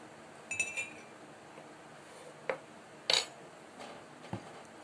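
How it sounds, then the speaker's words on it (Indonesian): Several light clinks of a spoon against glass while vinegar is added, scattered and fairly quiet, with one sharper ring in the middle over a soft background hiss. "masukin cuka itu 2 sendok ke dalam gelas masing-masing gelas"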